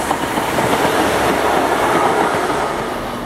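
A London Midland Class 170 diesel multiple unit rolls through Worcester Foregate Street station, its steady, loud rumble and wheel clatter continuous and close for the whole stretch, with no voices.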